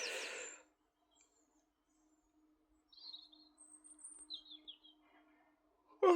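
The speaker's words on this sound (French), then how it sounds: "on entend les oiseaux chanter" Birds singing outside an open window: faint, high chirps and short tweets scattered over a few seconds in a quiet room, with a steady low hum underneath.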